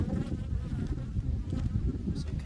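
Honey bees buzz steadily and close by during an opened-hive inspection in February, a dense, continuous low drone with no pauses.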